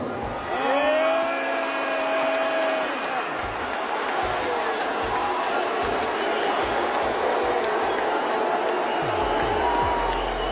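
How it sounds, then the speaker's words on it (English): A large comedy-show audience loudly boos Elon Musk, mixed with some cheering, a sustained roar of crowd noise after a brief stretch of voice at the start. "all those people are booing"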